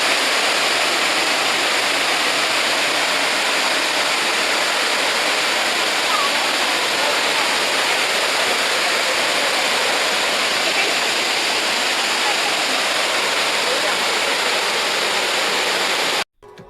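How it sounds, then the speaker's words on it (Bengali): Waterfall at Bendobaiglai in Dima Hasao, Assam, roars as a steady, loud, dense wash of falling water, unbroken and alone for the whole stretch before cutting off abruptly at the end. "এই ঝর্ণার সামনে আমরা এখন।"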